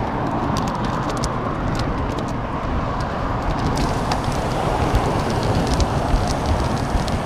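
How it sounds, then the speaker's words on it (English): Road traffic passes a cyclist in a continuous, loud rush of tyre and engine noise from nearby cars on a street. No voices are heard. "Too many cars."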